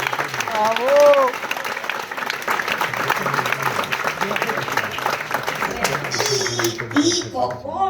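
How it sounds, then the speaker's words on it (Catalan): Crowd applause at a village Festa Major in Capafonts, scattered clapping mixed with voices and shouts from people nearby, uneven and lively throughout. "Un aplaudiment, sisplau! Bravo!"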